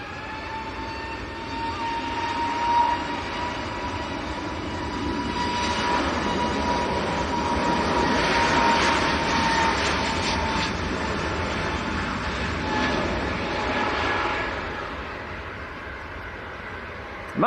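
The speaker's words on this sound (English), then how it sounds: "Pegasus next to go, pushing in front of the Ryanair and the TUI. A320 Neo just about to roll." A Pegasus Airbus A320neo begins its takeoff roll at Manchester Airport, a steady high engine whine and broad roar swelling through the middle and easing, heard from a distance without talk.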